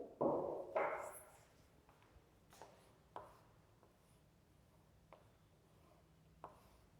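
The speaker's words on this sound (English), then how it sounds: "Let me draw the figure for you." Lines of a geometry figure are drawn by hand without a ruler, heard as a couple of firmer scratching strokes followed by several faint, short pen marks on paper in a quiet room.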